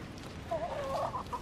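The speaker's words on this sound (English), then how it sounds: "these chickens are out free ranging right now" Free-ranging backyard chickens cluck nearby in a short, warbling run of calls over faint outdoor background noise.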